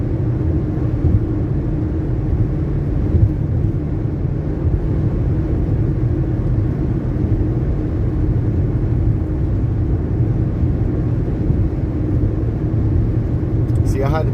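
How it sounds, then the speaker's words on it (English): A convoy of trucks and semis rolls past on a rainy road in a steady, loud, unbroken rumble of engines and tires that holds close for the whole stretch. "watch the convoy roll by"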